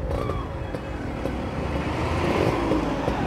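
A modified Yamaha RX 135 five-speed motorcycle is ridden on the road, with a steady engine drone and rushing wind and road noise heard from the rider's position.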